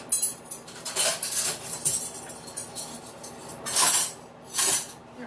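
Pans, dishes and utensils clink and clatter during kitchen cleanup after cooking, with scattered light metallic chinks and a few louder bursts of rattling, and no talking.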